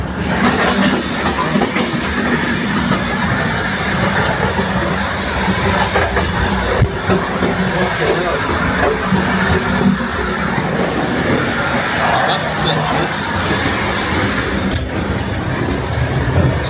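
Steady, loud rumble of a passenger train rolling along a rail line through the Ukrainian countryside, heard from inside a carriage with continuous wheel noise and faint clatter, and no clear speech.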